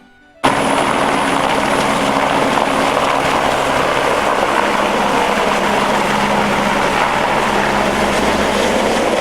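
A helicopter starts up abruptly in the Alps and stays loud and close, its rotor and engine droning steadily throughout.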